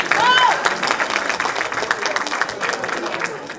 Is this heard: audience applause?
yes